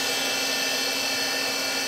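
The spindle of a Citizen K16EVIIP CNC Swiss lathe whirs steadily at speed, a constant high-pitched machine whine with no breaks and no voices.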